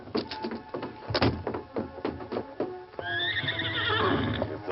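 A horse in a Lone Ranger western radio drama, with a run of hoof clip-clops followed by a loud, drawn-out whinny, close and clear over a quiet background.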